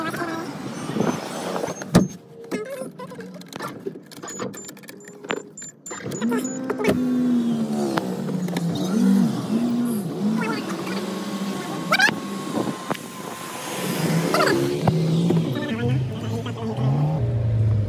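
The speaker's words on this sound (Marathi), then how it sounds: "गाडी ओपन करतो. तो गाडी घेऊन काढतोय बघा दिसतंय का." A car is unlocked, its door clunks, and then its engine starts and it pulls away, the motor hum rising and steady across the clip while people talk nearby.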